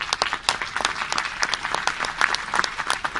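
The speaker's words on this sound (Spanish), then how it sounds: "Les pedimos un aplauso para ellos" Sustained audience applause at a university forum on pension systems, a busy patter of many hands clapping at moderate volume, alone without speech.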